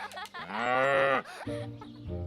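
A human voice imitates a cow's drawn-out moo for a farm fairytale, delivered as a loud, close, exaggerated call followed by shorter lowing sounds.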